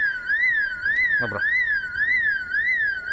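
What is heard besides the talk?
car alarm going off in the video game Project Zomboid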